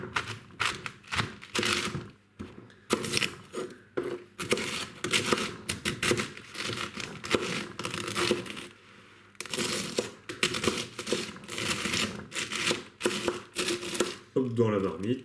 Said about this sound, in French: Je vais commencer par découper le chou rouge.